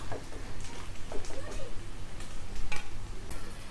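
Paneer cubes frying in a pan for chilli paneer, giving a soft, steady sizzling hiss with scattered small pops and crackles at moderate volume, with no voice over it.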